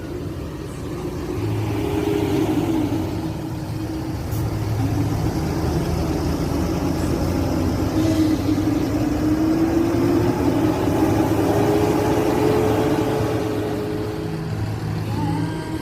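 PO Haryanto bus HR 071 pulls away from Jati Kudus terminal, giving a steady low diesel engine rumble with a slowly rising tone, at moderate level and fairly close, with no talk.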